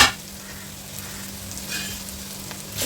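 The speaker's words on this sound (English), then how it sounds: "Time to mix and fry." Fried rice frying and being stirred in a pan: a steady close sizzle with soft scraping stir sounds throughout, a low hum underneath, and no talking.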